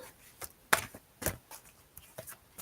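Several quick crisp riffling bursts of cards being shuffled, close by, with brief pauses between them and no talking.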